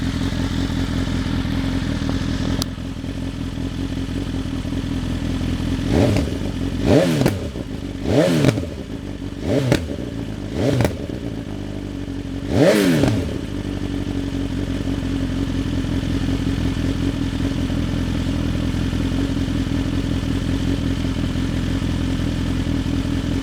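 A BMW S1000R Gen3 motorcycle fitted with a Dominator exhaust idles steadily, then revs sharply four times in a row with a later fifth blip, each rise and fall loud and close before settling back to idle.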